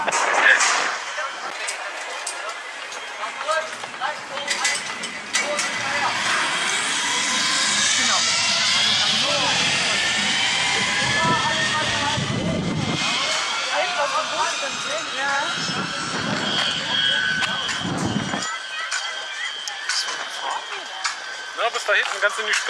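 An aircraft passes overhead while flying low over water, its engine roar swelling to a broad, steady drone mid-clip, then fading, with people talking over it throughout.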